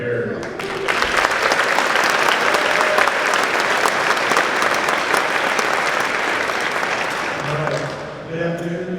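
A military retirement ceremony audience at Fort Sill breaks into loud, sustained applause to welcome a colonel. The clapping runs steadily for about eight seconds, then fades as a voice begins to speak.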